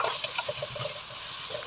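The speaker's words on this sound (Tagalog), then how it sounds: "naglagay na po ako ng mantika, bawang at sibuyas" Garlic and onion sauté in hot cooking oil, a steady close sizzle and crackle with light stirring clicks throughout.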